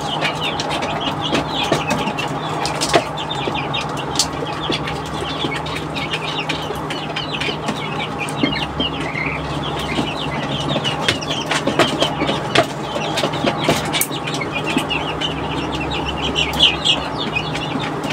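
Chickens cluck steadily inside a backyard coop with young chicks among them, a busy mix of overlapping clucks and occasional wing flaps at moderate loudness, with no voices.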